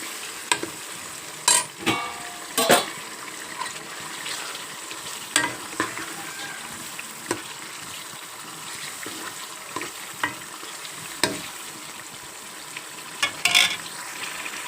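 Boiled potatoes frying and being stirred in a potato curry in a pan, a steady sizzle under repeated sharp scrapes and clinks of the spoon against the pan, close by, with no talking.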